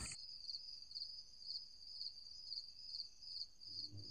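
Crickets trill at night in steady, evenly pulsing high chirps, continuous and moderately close against a quiet background with no talking.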